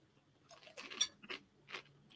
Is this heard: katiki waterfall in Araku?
no